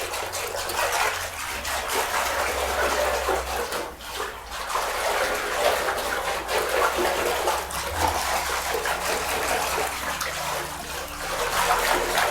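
Water mixed with clay churns and splashes steadily in a bath as it is whisked, a continuous close sloshing with a low background hum and no voices.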